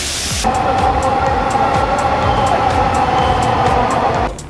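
A train running steadily, a loud continuous rumble and rattle with a sustained mid-pitched drone, starting abruptly and cutting off near the end, with no talking.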